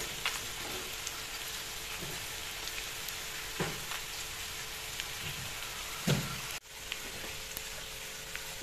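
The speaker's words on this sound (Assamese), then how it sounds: "ইতিমধ্যে কেৰাহী এটাত মই তেল গৰম হ'বলৈ দি দিছো প্ৰথমতে মই শুকান মাছকেইটা অলপ গৰম কৰি লম" Dried fish heats in hot oil in a kadai, giving a steady soft crackle with occasional louder pops and scrapes, close and continuous with no talking.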